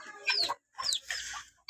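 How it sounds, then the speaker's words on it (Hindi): Chickens cluck in short bursts close by in a backyard pen, a few quick rough calls separated by brief pauses. "मुर्गियाँ वगैरह तो तकरीबन सब बाहर आ गई हैं, ये देखें मुर्गियाँ भी और चूज़े भी।"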